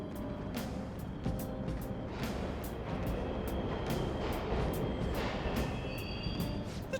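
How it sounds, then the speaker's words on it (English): Low rumbling subway train noise from the Persona 5 Royal video game, a steady mechanical drone with repeated sharp clicks and clatters like wheels over rail joints, fairly loud and continuous with no talking. "The trains are totally running!"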